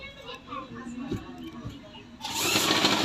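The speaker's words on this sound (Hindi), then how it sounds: "अब इस तरह से हमें सिलाई मारनी है पूरे पे, एक पैर का मार्जिन मोड़ के।" A sewing machine stitches a folded trouser hem, its steady mechanical whir running close and fairly loud, rising to a denser, brighter buzz near the end as the stitching speeds up.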